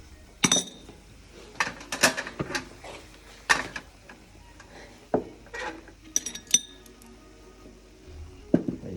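A frying pan is slid across the heat while pineapple is flambéed tableside, giving a string of sharp, close metallic clinks and knocks at irregular intervals with no talking.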